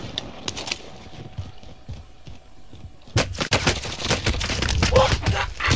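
Gunfire in the Warzone video game: sparse shots early, then from about three seconds in, dense and loud bursts of rapid fire continue to the end, with game sounds around them.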